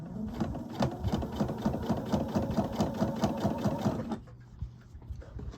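A sewing machine stitches a velvet princess seam in a fast, steady, close run of needle strokes for about four seconds, then stops, leaving a quieter room.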